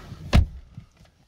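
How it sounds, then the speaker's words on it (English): A single solid thud as the door of a 2015 Mercedes C200 W205 C-Class swings shut, heard from inside the cabin, followed by a brief quiet settling. "Close the door."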